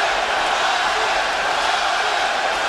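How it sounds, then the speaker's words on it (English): A boxing arena crowd cheers throughout a hometown fight in Austin, Texas, forming a steady, loud, dense roar without any distinct breaks. "Listen to this crowd."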